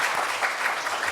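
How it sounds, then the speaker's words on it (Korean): Applause from a forum audience on fair trade policy, a dense, steady wash of clapping at moderate loudness with no voices over it. "앞으로 정말 그 기대만큼 열심히 잘해 주십사라는 박수 부탁드리겠습니다"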